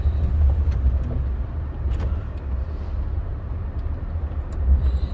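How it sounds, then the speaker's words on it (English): A Land Rover drives at the Solihull Land Rover Experience, giving a steady low engine and road rumble heard from inside, with faint rattles and knocks over the drone. "today we're driving at the Solihull Land Rover Experience"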